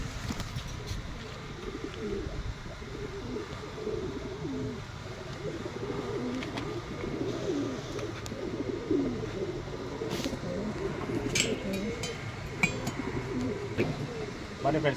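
Pigeons at a breeder's loft coo softly in a low, continuous murmur, with scattered faint chirps and wing flutters throughout, against a dull background hum.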